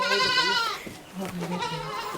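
Goats bleating on a Beetal goat farm in Hanumangarh, with a wavering high bleat followed by a lower second call, close by, as people talk nearby.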